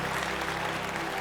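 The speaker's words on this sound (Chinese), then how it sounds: "掌声鼓励" Studio audience at a Chinese-language TV variety show breaking into applause, a dense, even patter of many hands clapping with a faint steady hum beneath it.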